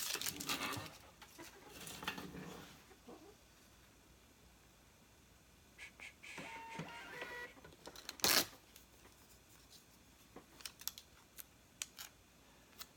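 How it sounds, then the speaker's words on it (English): Labels come off a Dymo roll printer in a home book-listing setup: short bursts of mechanical whirring and clicking, with one louder clack near the end, amid quiet room noise. "Use a dime roll printer over here to get our labels."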